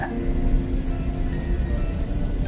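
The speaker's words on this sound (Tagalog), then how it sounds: "Isang malakas na kidlat muli ang maririnig mula sa kalangitan at muling bumuhos ang malakas na ulan." Heavy rain pours down steadily in a dense, even hiss with a low rumbling undertone, and no voices are heard.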